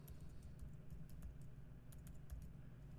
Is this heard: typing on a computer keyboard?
yes